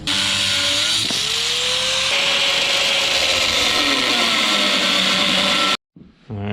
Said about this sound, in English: We're just gonna cut all this as one piece, stick it up in there, weld it in.